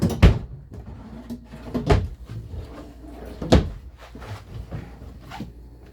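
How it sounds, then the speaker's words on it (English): A drawer or cupboard inside a 2023 Entegra Qwest 24R RV is handled: several sharp wooden knocks and thuds, the loudest near the start and middle, with quieter rummaging clatter between them and no talking. "I'm going to put the remote back in the drawer."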